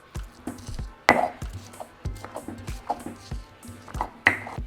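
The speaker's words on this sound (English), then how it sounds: "we're going to begin by smashing our garlic clove" A garlic clove is pounded in a stone molcajete with sharp, hard knocks arriving in an uneven rhythm, several strong strikes among lighter taps, close and clear with no talking.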